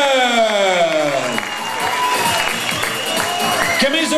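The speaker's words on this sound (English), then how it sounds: "Commiserations and a big round of applause to Nick M2 Word for making it to the final." A fight crowd at a boxing or kickboxing bout roars with sustained cheering, whoops and applause after the fight ends. The sound is loud and dense throughout, with tonal music or a horn-like drone present early on.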